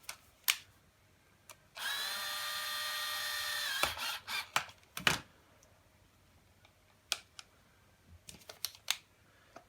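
Screws are driven back into the top plate of a Baby Jogger City Mini 4W stroller, with a two-second powered screwdriver whir followed by scattered clicks and handling knocks.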